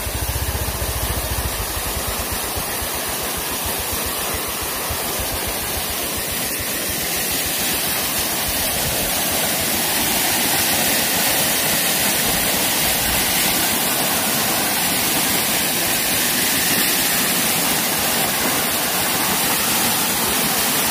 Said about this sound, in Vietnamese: Mưa to lắm, lũ to, lũ về này.